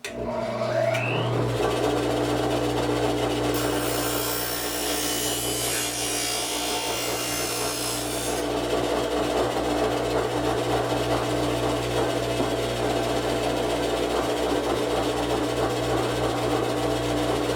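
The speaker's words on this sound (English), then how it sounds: "That way I can just slide the blade along and it automatically squares it up and grinds it at the bevel that I want it to." Wood plane blade bevel being ground on a sharpener: a steady, close mechanical whir with continuous rubbing and grinding throughout, a brighter scraping burst early on, and no talking.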